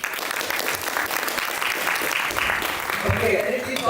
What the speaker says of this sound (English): I would give them a round of applause for all of them.